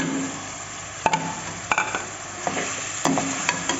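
Chicken for biryani fries in a pan with a steady close sizzle, broken by several sharp scrapes and taps of a spoon against the pan.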